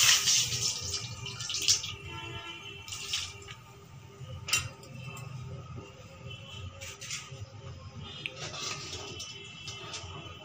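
Water is poured into a vessel, about half a glass, for making sweet tea, with splashing and clinking throughout, fairly close and alone.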